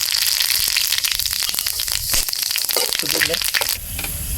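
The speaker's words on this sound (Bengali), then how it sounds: "এবার ঝোল রান্নার জন্য কয়েকটা গোটা শুকনো লঙ্কা, গোটা গরম মশলা এবং গোটা জিরা ফোড়ন দিয়ে দেব।" Whole dried red chillies, whole garam masala and cumin seeds dropped into hot oil for a village-style desi chicken curry, giving a loud, steady sizzle and crackle close up, with brief stirring scrapes.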